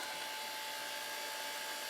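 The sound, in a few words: vacuum pump degassing casting investment under bell jar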